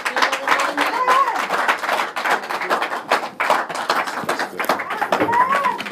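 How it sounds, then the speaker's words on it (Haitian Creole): A church congregation claps and applauds, dense and rhythmic, with voices and crowd noise mixed throughout. "Applaudis mon Dieu, applaudis mon Dieu, applaudis mon Dieu"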